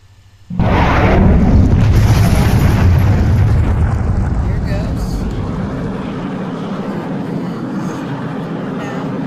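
Missile explosion from an ICBM mod in a video game: a sudden loud blast bursts in near the start, then a heavy rumbling roar slowly decays over several seconds, with no talk during the blast.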